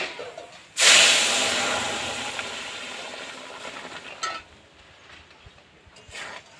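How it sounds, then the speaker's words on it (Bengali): Boiled masoor lentils poured into ginger and garlic frying in a pan set off a sudden loud sizzle that hisses steadily and slowly fades, with a few faint clinks afterward. "এবার সেদ্ধ করে রাখা ডাল দিয়ে দেব।"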